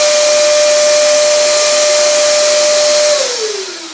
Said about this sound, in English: Let's make a measurement 1 meter away from the old shop vac.